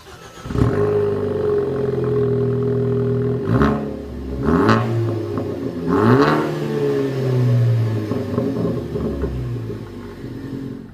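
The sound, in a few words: car engine revving through Borla aftermarket exhaust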